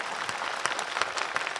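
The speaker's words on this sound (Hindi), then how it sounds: "तो एक बात तालियां बजा दे" Audience applause at a live poetry recital in Ujjain, a short burst of crisp, fairly faint clapping from a crowd, with individual claps standing out.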